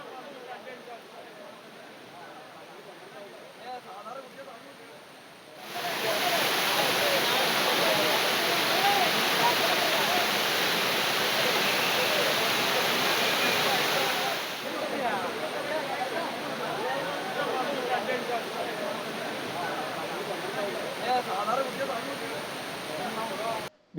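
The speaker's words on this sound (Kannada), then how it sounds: "ಮಳೆ ಸೀಸನ್ ಆಗಿರೋದ್ರಿಂದ ನದಿಯ ಫೋರ್ಸು ತುಂಬ ಜಾಸ್ತಿ ಇರ್ತದೆ" Fast-flowing river swollen by the rainy season at the Kottiyoor temple in Kerala, a steady loud broadband rush that swells even louder through the middle and then eases slightly, continuous with no talk.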